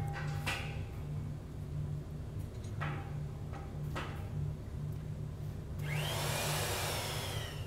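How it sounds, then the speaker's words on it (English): A Collins roll tool re-rolling a welded boiler tube: a steady low motor hum with intermittent ticks and clunks, then a rising whooshing surge near the end, faint and mechanical. "now he's gonna re-roll that tube to tighten it up after welding it"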